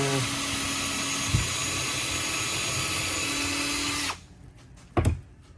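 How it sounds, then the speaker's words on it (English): A power drill whirs steadily and loudly for about four seconds while drilling a pilot hole for a wall mount, then stops abruptly, followed by a brief clunk and a short burst of noise. "you're gonna take your drill bit first."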